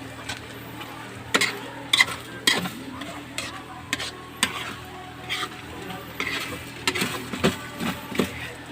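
Pancit noodles cooking in a pan, steady low sizzle under repeated clinks and scrapes of a utensil against the pan, irregular and close.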